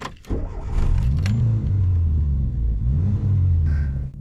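A 1989 Renault 5 GT Turbo engine cranks briefly and catches first try, settling into a steady, deep idle rumble with a slight surge partway through, close and fairly loud.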